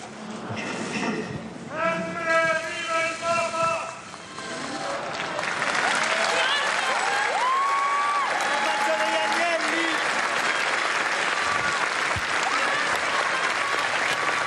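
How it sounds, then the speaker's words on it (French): A large crowd at the Colosseum in Rome breaks into applause and cheers at the end of the Way of the Cross: voices first, then a sustained, loud roar of clapping with shouts mixed in. "Sous les applaudissements et les cris « Vive le pape », c'est ainsi que se termine ce grand chemin de croix traditionnel au Colisée."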